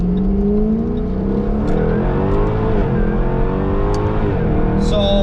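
A Jaguar F-Type R engine revs loudly and steadily, its pitch rising and dipping in a continuous close-up roar that fills the whole stretch.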